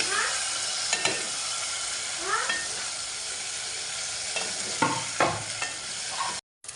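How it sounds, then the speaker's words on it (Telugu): Chicken pieces fry and sizzle steadily in a pan for curry while a spoon scrapes and stirs them in several brief strokes, the hiss cutting off abruptly near the end. "నెక్స్ట్ మంచిగా మిక్స్ చేయండి."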